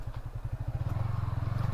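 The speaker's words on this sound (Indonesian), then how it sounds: "Untungnya knalpot kita bukan knalpot brong ya" A motorcycle with a stock exhaust rides at night, its low engine putter rising into a steady throb as it picks up speed, moderately quiet and close.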